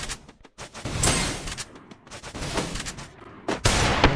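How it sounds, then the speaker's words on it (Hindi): Gunfire from a shotgun in Free Fire MAX fills a 1v1 custom match with loud, close bursts of shots and sharp blasts scattered irregularly throughout, with no talking. "ये गन शॉटगन से खेलेंगे, शॉटगन से हेडशॉट मारेंगे"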